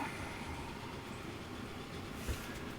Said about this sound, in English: This is one of our coal trains that's taking the coal all the way down the other side of the river.